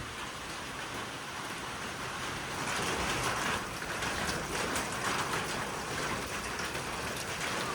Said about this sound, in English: it looks like we got some wind-driven heavy rain